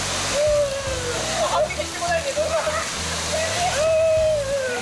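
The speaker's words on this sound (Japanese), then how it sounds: "さあ、いよいよ川に入ります。" River water sloshing and splashing at a smooth single-slab rock gorge in summer as people wade in, with a steady rushing flow throughout and people talking over it.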